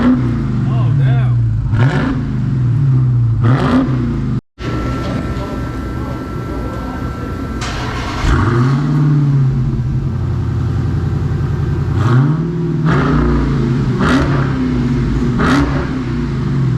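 A Dodge Charger Hellcat Redeye engine revs hard several times in bursts, rising and falling loudly up close, with brief pauses between and voices talking over it.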